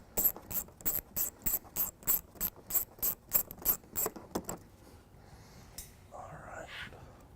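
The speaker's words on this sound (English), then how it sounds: "first step to taking off the bumper, we'll be removing these two 8mm bolts right here" A ratchet clicks in quick, even bursts, about a dozen strokes, loosening 8mm bolts on a 2016 Mini Cooper Countryman bumper, close up, then stops and soft breathy whispering follows.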